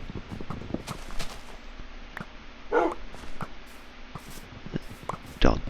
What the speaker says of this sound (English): Dog barks.